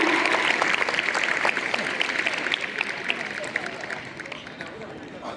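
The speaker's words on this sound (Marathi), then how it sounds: "टाळ्यांचा गजर होत राहिला पाहिजे आपल्या विद्यार्थिनींसाठी, तो थांबवायचा नाहीये." Sustained clapping from an audience at a school prize-giving ceremony in a Kolhapur girls' high school, steady and fairly loud, slowly thinning toward the end, with a crowd murmur beneath.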